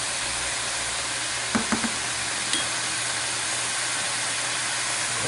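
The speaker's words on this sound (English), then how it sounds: "Got a good sizzle going." Chicken and onion sizzle steadily in olive oil, giving off a broad, even hiss that carries on without a break, with a few soft clinks partway through.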